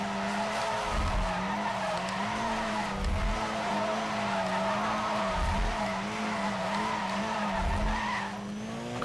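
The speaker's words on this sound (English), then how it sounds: "This will be one continuous, massive continuous drift" In the 2012 game Need for Speed Most Wanted, a car holds one long continuous drift, its tires squealing loudly and steadily over a droning engine, with no talking.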